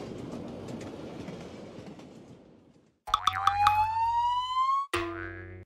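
A rumbling, clattering cartoon train passes, then cuts to bright springy boing and whistle-like rising tones, a sustained siren-style sweep, and a final abrupt sting, all up close with no speech.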